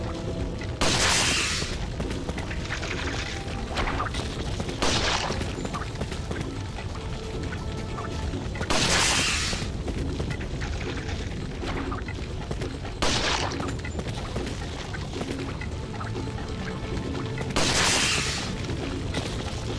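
Gunfire and bursts of booming impacts erupt repeatedly in Resident Evil 4 (2005), loud blasts recurring every few seconds over a steady background of game noise, with little talking.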